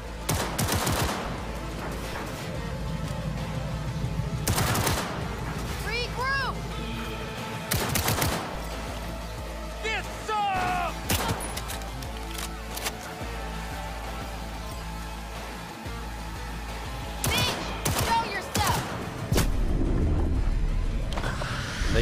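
Enemy gunfire in the video game Cyberpunk 2077: repeated loud shots and bursts, some rapid like machine-gun fire, recur over a dense layer of game sound, with no talking.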